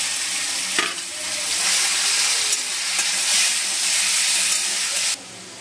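Chopped chicken fries with spices in a hot pan, a steady loud sizzle and hiss with stirring scrapes, cutting off sharply near the end.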